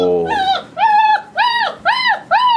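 A five-week-old puppy whimpers close up, five high, rising-and-falling whines in quick succession.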